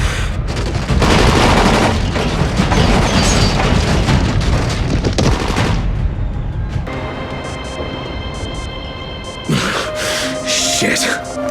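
Gunshots in a Dying Light cinematic cutscene, a loud burst of shots and booms over the first half, then settling into a quieter tonal ambience with a few later thumps; voices speak briefly.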